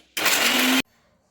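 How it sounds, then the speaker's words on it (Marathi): A mixer grinder grinding garlic and onion into paste roars loudly for under a second, a short whirring burst that rises slightly in pitch before cutting off sharply. "आणि हे मस्त बारीक करून घेऊया."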